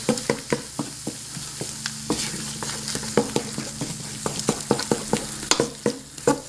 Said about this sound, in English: just scramble this egg right into it